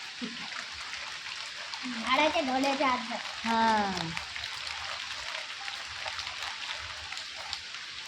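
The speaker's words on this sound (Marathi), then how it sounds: "आता पाऊस पडतोय" Monsoon rain falls in the Konkan countryside as an even, continuous hiss of close, steady rainfall. A voice talks briefly over it partway through.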